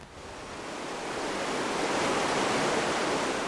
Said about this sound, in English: The sound of water rushing along Stye Head Gill was a constant accompaniment.